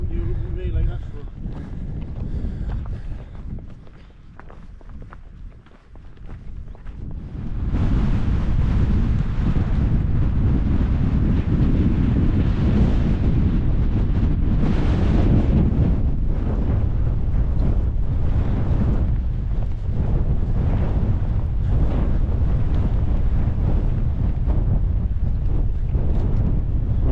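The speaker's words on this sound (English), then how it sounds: "as you can hear, it's windy" Strong wind on Hare Law hill buffets the microphone with a loud, continuous roar that gusts harder after the first few seconds and stays heavy throughout.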